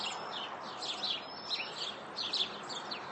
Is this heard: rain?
no